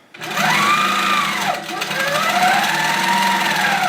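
A Coronet quilting machine runs and stitches close by, a loud, rapid mechanical whir with a fast needle rhythm and a brief dip in speed partway through, while people talk quietly over it.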